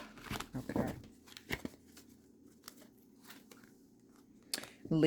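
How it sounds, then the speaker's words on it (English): Tarot cards shuffled by hand in several short, crisp riffling bursts separated by quieter pauses, with a final burst near the end. "Shuffle them one more time."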